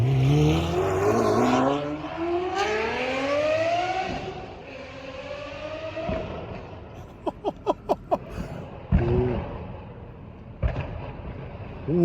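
A Ferrari 599 drives and revs, its engine note climbing through rising sweeps, then settling, followed by a burst of quick sharp pops before another rev; close and loud, with no talk.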